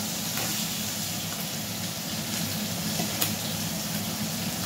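Fish, hilsa, sizzling in hot oil in a home kitchen, a steady dense crackle and hiss held close and even throughout, with a few faint clinks and no voices.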